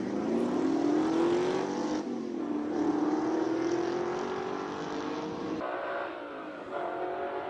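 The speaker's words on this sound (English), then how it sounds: "Silvio Skrabanti with a Big Mac Daddy V8 Piranha, South African special." Classic South African special V8 Piranha race car with a 5-litre engine and manual gearbox, climbing a hill course in Cape Town, loud engine roar rising in pitch through the gears with brief drops at the shifts.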